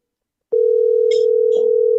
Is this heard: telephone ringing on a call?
yes